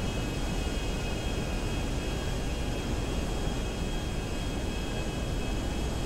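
Steady broadband roar of a jet aircraft engine in the video game GTA Online during a jet race, constant and loud with no break or speech.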